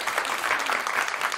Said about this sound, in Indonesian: tepuk tangan buat Khadafi